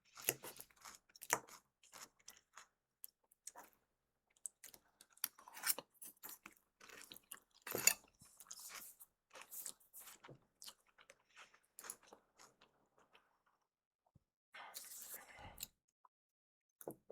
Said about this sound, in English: I'm trying not to crunch too loudly in your ears.